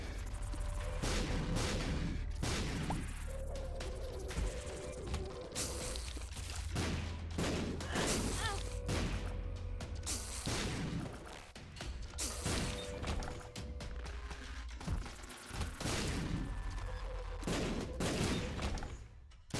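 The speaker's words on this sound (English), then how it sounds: "we have so many damn explosions" Repeated explosions in the roguelike video game The Binding of Isaac: Repentance, a dense run of loud booms and crashes bursting every second or so over continuous game music and effects, with no talk.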